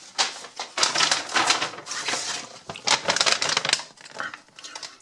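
A takeaway paper bag from a burger meal is handled close by, giving irregular crisp rustling and crinkling bursts that rise and fall over several seconds.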